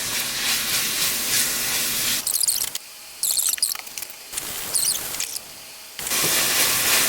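Meat sizzles as it browns in a pan for egg rolls, a loud crackling hiss that drops away in the middle for a few seconds of quieter stirring and scraping before the sizzle surges back.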